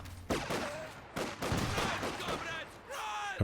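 Boys anti-tank rifle in a video game firing amid loud, dense battle noise, with sharp blasts and explosions crowding the short stretch while commentators talk over it.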